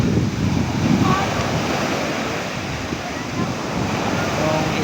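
Waves crash on the beach at Socorro, Surigao del Norte, making a steady, loud roar of surf mixed with wind buffeting the microphone throughout.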